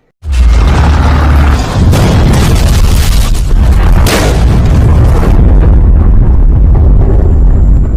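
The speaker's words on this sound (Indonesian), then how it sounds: "tiba-tiba tank mereka kembali mendapatkan tembakan dari tentara Nazi" A tank struck by Nazi gunfire explodes in a war film battle, a loud sustained blast and rumbling roar that fills the whole stretch, with crackling debris bursts and a sharp flare of noise midway.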